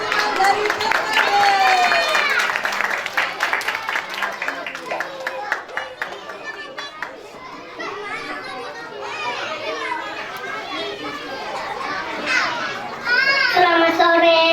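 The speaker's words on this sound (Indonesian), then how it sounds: "Kita berikan tepuk tangan yang meriah untuk teman-teman dari TKB." Children and an audience at a kindergarten graduation arts performance, a lively mix of clapping, cheering and excited kids' voices, loud and continuous with chatter throughout.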